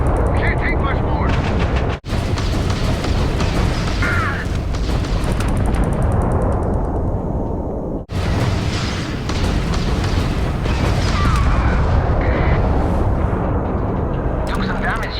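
Sustained gunfire and booming blasts in a firefight in the video game Starfield, dense and continuous throughout with two brief gaps, with a voice partly audible under the shooting.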